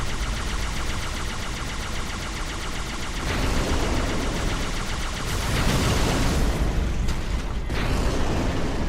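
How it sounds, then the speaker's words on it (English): Explosions and battle noise in the video game Halo 2 Rebalanced make a loud, dense, continuous roar with mechanical rattling, and a heavier blast surges partway through. "let's increase the size of the explosion a little bit"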